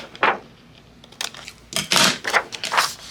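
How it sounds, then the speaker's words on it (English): Scissors snip corner squares out of card paper, giving several short, close cutting crunches in quick succession, with a pause before a denser run of cuts. "take away all these little corner squares. Just cut them out."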